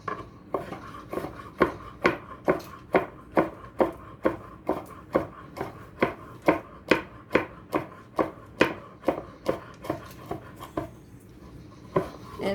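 Sage leaves chopped with a knife on a cutting board, a steady run of about two dozen crisp, evenly spaced chops close up, with a short pause near the end.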